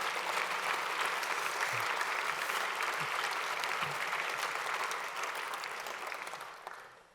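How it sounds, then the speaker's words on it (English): An audience at a Meet the Chiefs 2020 event applauds after a poem reading. The steady crowd clapping fills the room, then thins and fades out toward the end. "You can applaud."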